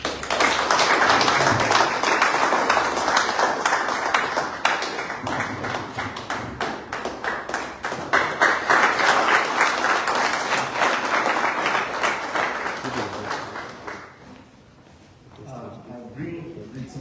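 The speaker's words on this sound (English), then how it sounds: "with a round of applause, can you join me as we invite him to the podium" Sustained applause from an audience at a fire safety lecture by FRSC in Ogbomoso, dense and steady for most of the stretch with speech mixed in, then fading near the end as talk resumes.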